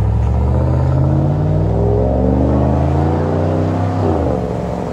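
A 2012 Cadillac Escalade ESV with a 6.2L V8 and a Flowmaster Flow FX exhaust idles nearby, giving a loud, steady, deep rumble that swells slightly as it revs gently.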